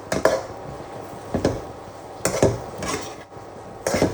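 A spoon scrapes and clanks against a pan while stirring ripe banana pickle, several distinct metallic knocks and scrapes spaced irregularly over a faint background.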